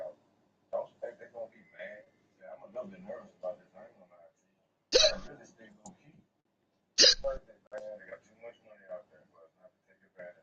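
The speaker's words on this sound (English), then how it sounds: "Does someone have the hiccups?" Two sharp, loud hiccups come about two seconds apart, cutting through radio-style chatter among people in a stock car racing broadcast, with talk before and between them.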